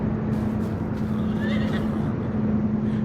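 A horse neighs on a farm in Farming Simulator 25, a rising whinny at mid-clip over a steady low hum, with faint hoof clip-clop in the background.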